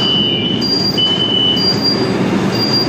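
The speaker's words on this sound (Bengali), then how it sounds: "সো 2 নম্বর প্ল্যাটফর্মে এসে দেওয়া হলো মেট্রোটা।" A Kolkata Orange Line metro train pulls into Beleghata station on platform two, a steady loud rumble of wheels on rail with high, thin metallic squeals drifting in and out, and no voices.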